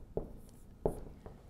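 A pen writes out a math problem in short, faint strokes, with two or three brief scratches on a quiet background.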